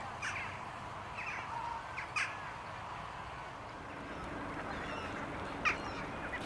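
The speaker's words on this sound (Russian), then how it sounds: "серые вороны, пернатые падальщики берегов водоемов, делают свое неприглядное дело" Hooded crows, the grey crows that scavenge along winter lakeshores, give a few scattered caws, mostly faint and distant over a steady broadband wash of water and wind, with one louder call near the end.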